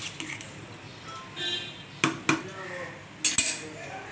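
Vegetable dalia khichuri stirred in a pot, a few sharp metallic clinks of a spoon against the pot rim amid quiet kitchen background.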